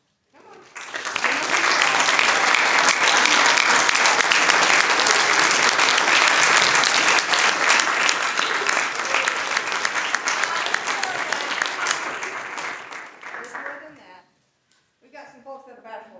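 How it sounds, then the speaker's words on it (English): A graduation audience at a 2021 high school ceremony gives a big round of applause for the parent teacher helpers. Loud, dense clapping is sustained for about twelve seconds, then fades out and a voice takes over near the end. "let's give them a big round of applause, please"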